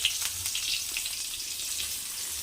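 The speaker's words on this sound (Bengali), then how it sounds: "এটা ভালো করে ভেজে নেব।" Chopped onion fries in a hot pan, giving a steady, close, bright sizzle with faint crackles throughout.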